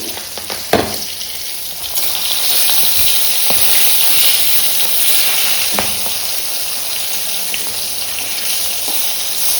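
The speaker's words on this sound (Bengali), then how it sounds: "পটল ভাজা করি।" Sliced pointed gourd sizzling in a hot wok, a steady bright hiss of frying oil with occasional clicks and pops, close and continuous with no talk.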